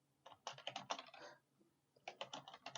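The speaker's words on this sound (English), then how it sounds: "I can't see what I'm typing" Rapid clatter of keys on a computer keyboard in two bursts, close and fairly quiet, with a short pause between them and no talk.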